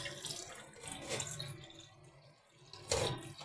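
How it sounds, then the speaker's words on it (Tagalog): Water poured into a cooking pot for boiling kamote vines, a steady splashing stream that eases off midway, then a brief louder splash near the end; no talking. "lagyan natin ng tubig"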